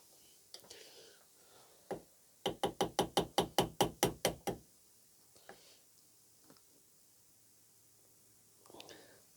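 A rapid run of about nine sharp metallic hammer strikes on a plate on a Vauxhall Cavalier MK2 S16SH engine, evenly spaced and loud, with a few scattered knocks and faint murmuring before and after.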